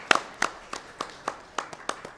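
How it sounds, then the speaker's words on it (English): Sparse applause from a small audience at an awards dinner at the Serena Hotel in Nairobi, heard as about eight separate, fairly sharp claps spaced at a steady rhythm, faint and close, with no voices. "A round of applause for her."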